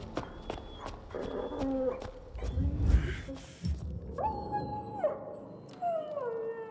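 A dog in the Dying Light 2 video game howls and whimpers in drawn-out, wavering cries near the end, after scattered footsteps and thuds, fairly close and without talk.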